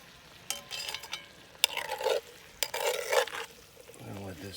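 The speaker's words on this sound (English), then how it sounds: "gonna let this saute for about 5 minutes" Beef stroganoff with garlic sautés in a pan over coals, with scraping stirs and short bursts of sizzling at close range, a soft metallic clink near the end.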